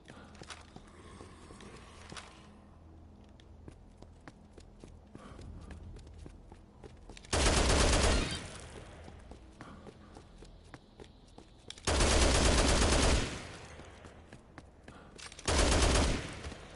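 Bursts of gunfire in Dead Rising Deluxe Remaster, three loud rapid volleys of about a second each, spaced apart over a backdrop of footsteps and scattered game sounds.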